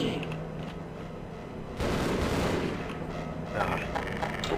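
Shotgun blasts against military soldiers in the video game Half-Life, loud booming shots with a heavier burst midway, set against game noise and faint background voices.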